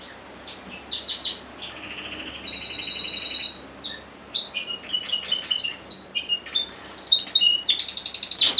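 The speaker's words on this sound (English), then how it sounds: "plenty of canaries in an aviary. Brilliant. There's a male behind me singing away." Male canaries sing in an aviary at a caravan park in Felixstowe, with bright, continuous trills and chirps overlapping close by and no voices.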